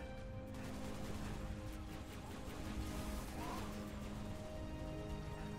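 Rapid turret gunfire in Halo Reach on Legendary, a dense sustained barrage of shots with crashing impacts throughout, loud and continuous.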